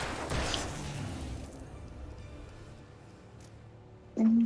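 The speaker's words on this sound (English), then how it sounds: "Explosion." A blast in the video game Alan Wake, with a loud burst of noise at the start that decays into a quieter rumble. A short tonal sound rises near the end.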